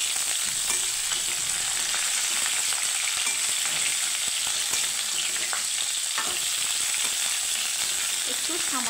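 Cauliflower frying in hot oil in a pan, a steady dense sizzle throughout with occasional stirring scrapes and crackles.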